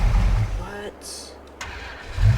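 Tractor engine starting up in the Farming Simulator 22 video game, a short low mechanical crank and rumble that drops away briefly before the engine catches and settles into a steady idle, with someone talking over it.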